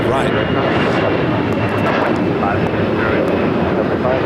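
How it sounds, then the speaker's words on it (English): A United Airlines Boeing 787-10 Dreamliner jet roars loudly and steadily during takeoff on runway 25 right at LAX, a constant near engine rumble with a voice talking over it. "United Airlines Flight 1756, 787, 10 Dreamliner heading down for a south side and takeoff"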